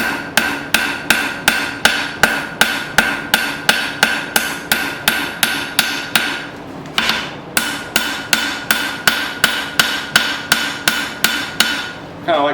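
A hammer strikes a steel file on an anvil while it is forged and shaped with a slight taper, ringing blows falling in a fast, regular rhythm with one brief pause midway, loud and close.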